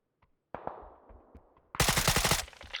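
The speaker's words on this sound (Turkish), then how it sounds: "Kime sıkıyor bu lavuklar?" Bursts of automatic gunfire from other players in a multiplayer video game, a few faint distant shots first, then a loud, close sustained volley of rapid reports near the end.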